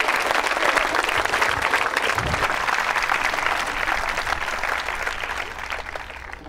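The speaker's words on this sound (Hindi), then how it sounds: "तालियां जोरों से बजाइए" Loud, sustained audience applause at a college quiz show held at a government women's engineering college in Ajmer, steady full-room clapping that continues throughout and eases slightly toward the end.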